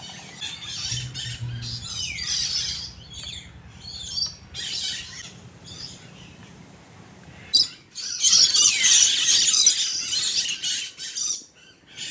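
Birds calling at a bird park in Hambantota, Sri Lanka, with bursts of chirps and squawks coming and going over soft ambient noise, busiest and loudest toward the end.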